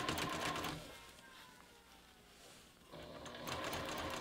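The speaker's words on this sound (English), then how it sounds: "Just sew the entire length, making sure you're not going to sew over those sewing pins." A sewing machine stitches fabric for a bucket bag in two loud rapid whirring runs, with a quieter pause between them, heard close up.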